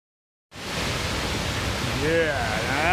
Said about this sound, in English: Yeah, now that's a waterfall.